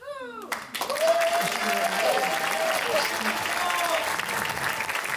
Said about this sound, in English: keep that applause going for both Bill and Mary, Ben's parents.